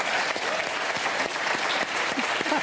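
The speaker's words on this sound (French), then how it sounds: "On les applaudit très très fort." A television studio audience applauds with steady, fairly quiet clapping, and a voice shows faintly underneath.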